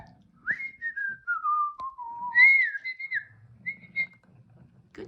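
A ROPET AI companion robot whistles a short sliding tune, a descending glide followed by a few bright higher notes, clear and close against a quiet room.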